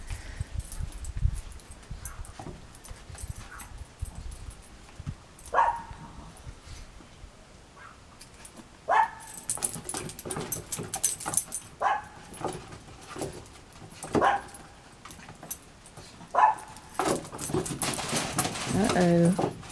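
Chorkie puppies about 15 weeks old playing outside on a porch on a mild day, letting out scattered yips and short barks in irregular bursts while a person talks nearby.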